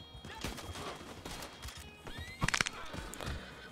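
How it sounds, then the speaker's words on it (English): A horse in the Red Dead Online video game gives a sharp whinnying neigh midway, with hoof clip-clops and scattered distant gunfire in the background, and some quiet voices around. "Dude, I love trampling them with the horse."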